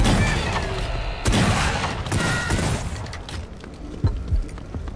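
Shotgun blasts in the video game Wrath: Aeon of Ruin, several loud close booming shots spread irregularly through a busy backdrop of game noise and rumble.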